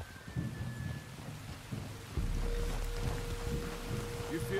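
Rolling thunder over steady rain in Red Dead Redemption 2, a low rumble swelling louder halfway through beneath continuous rainfall, with a faint tonal hum and no speech.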